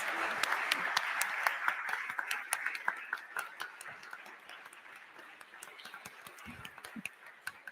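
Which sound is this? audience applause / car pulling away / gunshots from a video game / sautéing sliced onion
audience applause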